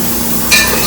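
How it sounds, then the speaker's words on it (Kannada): Onion and tomato masala for a mutton biryani stirred in a pot of hot oil, a soft continuous sizzle with a brief scrape of the spoon, close and alone. "ಇವಾಗ ಒಂದ್ಸಲ ಚೆನ್ನಾಗಿ ಕೈ ಆಡಿಸ್ಕೊಂಡು ಟೊಮಾಟೊ ಚೆನ್ನಾಗಿ ಇನ್ನೂ ಬೇಯಬೇಕು"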